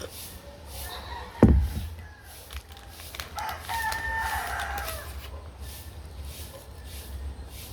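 Farm chickens kept by a father cluck and crow in the background of a home yard. There is a sharp thump early on, and the calls stay moderately distant over a steady ambient hum.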